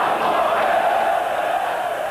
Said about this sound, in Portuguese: A torcida alvinegra começa a xingar jogadores